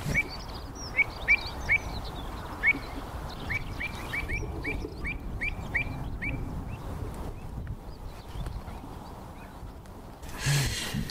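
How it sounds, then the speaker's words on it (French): Birds call across a salt marsh at a salt works, sharp repeated chirps in loose series over a soft outdoor background, some louder and nearer, others faint, with a brief rustling burst near the end. "Il reste les oiseaux, ils sont restés parmi nous."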